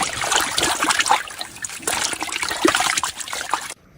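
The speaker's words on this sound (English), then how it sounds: "And we rinse it with clean water." Clean rinse water trickles and splashes over laundry at a camp in Baja California, a steady close dribbling and splattering that runs without a break before cutting off abruptly near the end.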